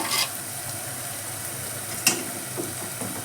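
Tempering for coriander rasam fries in oil over a low flame with a steady, close sizzle. A few sharp crackles and pops rise above it, and no one talks.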